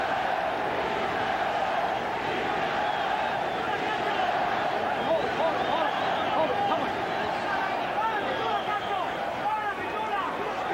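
Arena crowd at a Julio Cesar Chavez versus Kostya Tszyu world title boxing match, a sustained roar and chanting of many voices rising in waves, loud and continuous through the whole stretch.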